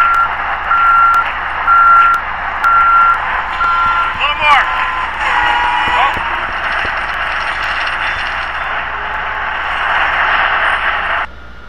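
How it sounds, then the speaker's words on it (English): Winch trucks slowly lower a truck onto firm ground over snow, with steady reversing beeps pulsing in the first few seconds amid a loud continuous engine drone, scraping and rattling, as voices talk over the machinery. "And two other winch trucks and slowly drop it over."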